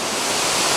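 A waterfall on a hike in Boquete, Panama roars as a dense, steady broadband rush, loud and close, with no talking.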